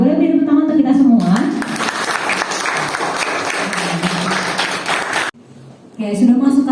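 A classroom breaks into dense, loud applause for about four seconds, with a teacher's talk just before and after the clapping.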